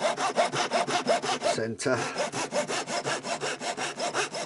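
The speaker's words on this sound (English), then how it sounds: "I'm not worried about sawing it into that little stub" A hand saw cuts steadily through a small wooden stub left on a woodturned dodecahedron box, with about twenty even back-and-forth strokes, close and loud. A brief pause breaks the rhythm midway, then the sawing resumes.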